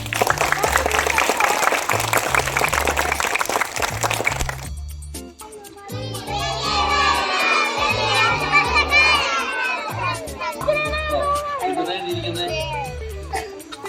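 A school eco club gathering, with loud crowd applause that fades into the lively shouting and chatter of many children, close and continuous, people talking throughout.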